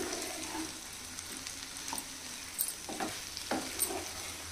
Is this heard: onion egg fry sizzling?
yes